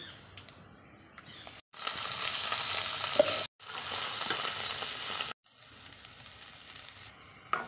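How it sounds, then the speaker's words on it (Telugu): Drumstick leaves hit hot oil with mustard seeds, garlic and chana dal and sizzle loudly in bursts, with quieter stirring and frying stretches between abrupt cuts. "ఆవాలు, తెల్లగడ్డ, శనగపప్పు ఇవన్నీ బాగా ఏగాయి కలిపి పెట్టుకున్న మునగాకు వేసుకుందాం"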